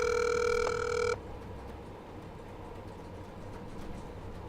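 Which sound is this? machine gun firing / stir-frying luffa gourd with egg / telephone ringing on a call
telephone ringing on a call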